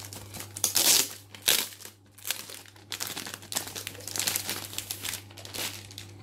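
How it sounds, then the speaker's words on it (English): Plastic packaging is unwrapped from an APink official fanclub kit, crinkling and rustling loudly up close in several bursts, with a low steady hum underneath and no speech. "let's unwrap this"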